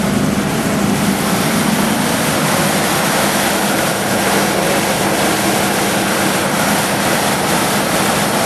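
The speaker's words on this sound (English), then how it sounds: "the exhaust sounds pretty good" A VB Commodore's exhaust gives a loud, steady engine roar with a constant low hum underneath, continuous and close, without any pauses.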